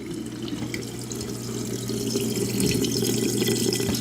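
A GE dishwasher with a fault that leaves it unable to wash or drain, so it only fills with water, drains a large amount of water: a steady, close rushing gurgle over a constant low hum that grows slightly louder.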